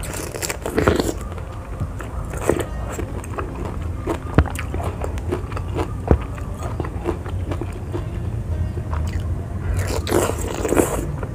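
Close crunchy bites and wet chewing of raw pineapple rujak, soaked in salt and served with chili sambal. The bites repeat at irregular intervals over a constant mouth-noise background, with no talking.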